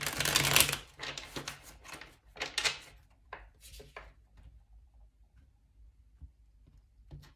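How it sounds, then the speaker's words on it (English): A tarot deck is split and shuffled by hand, several quick riffling bursts of card flutter up close, then softer taps and shuffles tapering off. "I think we would just go ahead and divide the deck."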